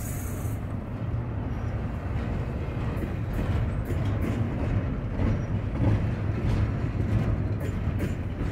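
A freight train carrying MSC containers rumbles past continuously, a steady low roar with repeated clattering of cars rolling by, fairly close and loud throughout.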